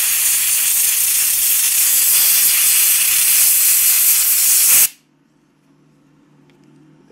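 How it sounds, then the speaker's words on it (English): Compressed air blasts dust out of a Sprint Filter P08 F1 85 car air filter in a loud, steady hiss that lasts nearly five seconds and then cuts off abruptly, leaving near-silence. "Compressed air. And watch here, you can actually watch it blowing the crud."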